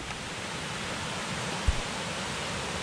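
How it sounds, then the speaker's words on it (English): Bridal Falls waterfall along the Gunflint & Lake Superior Railroad grade after a wet fall, running as a steady broadband rush that stays even throughout, with one brief soft thump partway through. "You can hear Bridal Falls running much better here."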